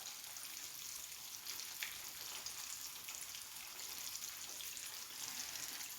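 Pieces of broasted chicken fry in oil over a low flame, giving a steady soft sizzle and crackle that continues quietly without a break.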